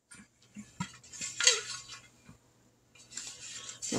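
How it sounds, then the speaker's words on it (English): Metal clinks and clatters as a lid is set onto a pot while canning black beans, a few light, close knocks and scrapes at an irregular pace in a quiet kitchen. "So now we're going to put the lid on it."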